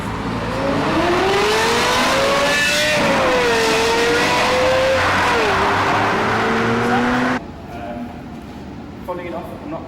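Lexus LFA V10 engine revving hard and loud with a rising, sweeping pitch, shifting tone mid-rev, then cutting off abruptly near the end; steady speech murmurs underneath.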